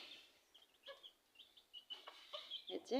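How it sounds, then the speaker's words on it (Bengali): Several domestic hens in a home coop give short, scattered clucks and soft calls, close by and moderately loud, growing busier toward the end, with no one talking. "এই যে দেখতে পাচ্ছেন এগুলো আমার মুরগি"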